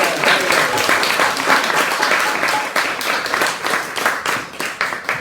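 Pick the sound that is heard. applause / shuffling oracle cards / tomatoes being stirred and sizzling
applause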